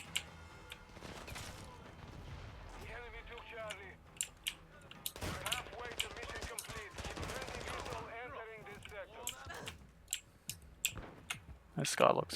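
Call of Duty gunfire crackles in bursts of rapid shots and sharp single reports, some close and some farther off, over a busy in-game soundscape with voices talking at times.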